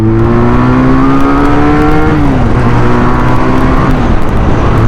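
A 2023 QJ Motor SRK 400 two-cylinder naked motorcycle pulls hard under acceleration, its close, loud engine note climbing steadily, dipping briefly at a gear shift, then rising again.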